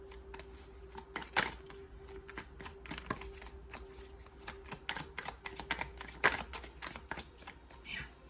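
A deck of tarot cards is shuffled by hand, a long run of crisp riffling flaps and taps in uneven bursts, close and clear, with no talking over it.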